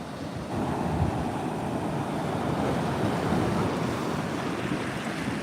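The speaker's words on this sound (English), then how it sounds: "those waves kind of towards the northern side of the inlet" Ocean waves roll into an inlet during a coastal flood warning from Hurricane Erin near Bethany Beach, a continuous broad surf roar mixed with wind buffeting the microphone, steady and fairly close with no talk.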